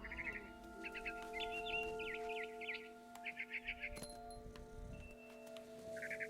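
A barn swallow chirps near a nest in the What Remains of Edith Finch game, giving repeated quick twittering bursts over a faint musical drone, with a soft voice briefly heard.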